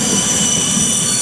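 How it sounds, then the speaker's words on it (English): A train rolling past someone on a military-kit march in the countryside, a steady loud rumble with a constant high metallic squeal of wheels across the whole stretch, no voices over it. "let's just let the train go."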